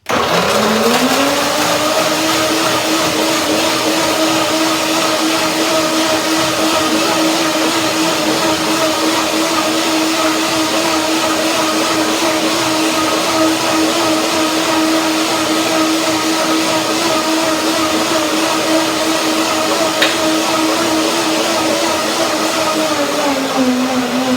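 An electric blender whirs through a pear, grape and papaya salad, a loud steady motor drone that spins up at the start and winds down near the end, with no talk over it.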